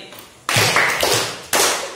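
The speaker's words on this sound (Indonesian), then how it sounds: "Tepuk tangan 3 kali." A classroom of students clapping together, three sharp unison bursts of hands, each decaying quickly, close and loud in a room.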